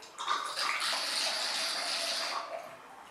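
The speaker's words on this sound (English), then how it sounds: "Careful not to pour your wine too fast or too much because here it is a small tool and it takes time to go through" Wine pours through a small aerator into a glass, a close bubbling, gurgling stream that starts abruptly, holds steady for about two seconds, then tapers off.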